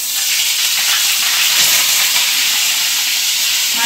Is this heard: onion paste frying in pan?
yes